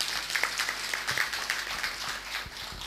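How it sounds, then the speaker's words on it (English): An audience at a national GST conference gives a round of applause for the CBC Chairperson, a moderate, scattered clapping heard from across the hall with no talk over it. "Please join me together to thanks CBC Chairperson, with big round of applause for joining today."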